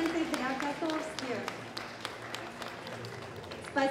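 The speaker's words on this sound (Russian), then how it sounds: "Аплодисменты для Котовски." An audience at an award ceremony claps for a winner, with scattered, moderately loud claps mixed in with talking.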